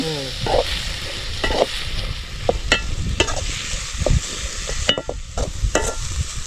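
Onions and tomatoes sautéing in a pan for rabbit gravy at an outdoor forest cooking spot, a steady sizzle broken by repeated scraping stirs of the spoon against the pan, close and fairly loud.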